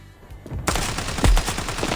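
Rapid gunfire in the shooter game Standoff 2, a quick string of loud, sharp shots firing in close succession with one heavier blast midway, no voices.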